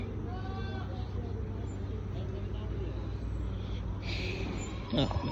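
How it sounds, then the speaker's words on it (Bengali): Goats and fat-tailed sheep at a livestock market, a few bleats rising over a steady murmur of crowd and road traffic, with people talking in the background and a brief louder knock near the end. "ওইদিকে হচ্ছে ছাগল দুম্বা আর এদিকে হচ্ছে গরু মানে সব গরু খামার আর এদিকে ছাগলের খামার ছাগল দুম্বা"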